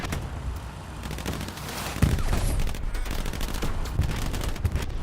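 Rapid gunfire rattles through a Hell Let Loose firefight, with dense bursts of shots and louder close cracks starting around the middle, continuing over a rumbling battlefield background.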